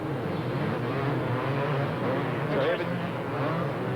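Several 500cc motocross bikes racing at the 1992 Motocross des Nations in Manjimup, Australia, a steady loud engine roar throughout with a slight swell near the end as machines pass, with commentary talk over it.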